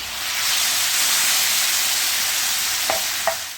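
Lamb with pepper flakes and black pepper sizzles loudly in a hot saç tava, a steady close frying hiss broken by two short scraping clicks from the stirring utensil.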